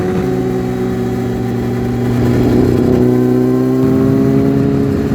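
A Kawasaki ZX6 Ninja motorcycle engine runs steadily nearby at a loud, even pitch, with a slight rise in revs partway through and no voices over it.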